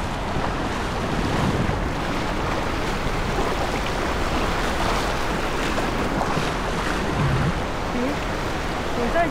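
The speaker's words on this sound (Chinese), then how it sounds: "这种风浪越来越大了" Strong wind and waves crash continuously at the sea on the northern tip of Denmark, a loud, dense roar of surf with heavy wind buffeting the microphone throughout.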